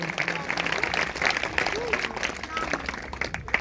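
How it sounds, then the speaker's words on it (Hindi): A congregation at a Sunday church service applauds, heard as a steady, fairly faint wash of clapping and crowd noise running throughout, with voices mixed in. "अगर आई है तो जोरदार तालियां बजाएंगे"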